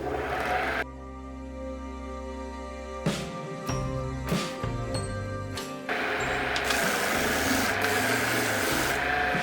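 Abrasive paper sands an inside-out turned wooden vase spinning on a lathe, a close steady rubbing hiss over the motor's hum, broken by several short scraping bursts and brief pauses before resuming louder.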